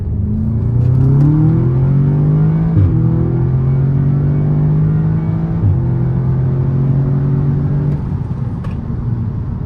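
Audi S3 running an E30 tune and Stage 2 high-pressure fuel pump accelerates hard in a full pull, engine drone climbing steadily through gear shifts near 3 and 6 seconds, loud and continuous from inside the car with no talk.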